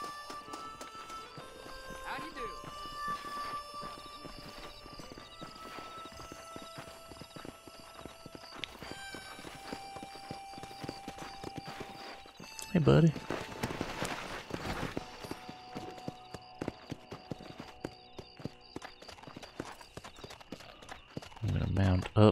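Rhythmic clip-clop of a horse's hooves in Red Dead Redemption, steady walking and trotting steps with a whinny partway through, game music tones in the background and someone briefly speaking.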